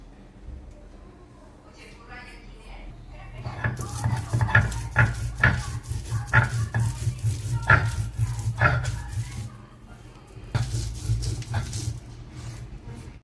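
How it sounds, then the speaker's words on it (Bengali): Bottle gourd leaves with shrimp are ground on a Bengali shil grinding stone: repeated rough scraping strokes in an uneven rhythm, close and fairly loud, with a low hum beneath. "শিলে এবার বেটে নিচ্ছি।"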